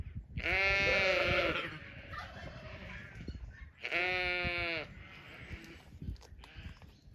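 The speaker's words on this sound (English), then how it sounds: "Try and get the sheep to come and say hello" Two loud, close bleats from farm sheep, ewes walking up toward someone, with quieter rustling and movement between the calls.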